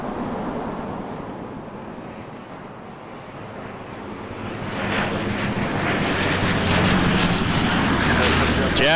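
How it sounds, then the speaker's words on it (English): A Jazz Aviation Dash 8 Q400 turboprop airliner, operating as Air Canada Express, approaches Toronto Pearson Airport, its engine drone steady under wind noise and swelling louder in the second half, with a faint propeller hum. "Jazz Aviation operating as Air Canada Express. Dash 8 Q400. Coming in from London, Ontario on flight 264."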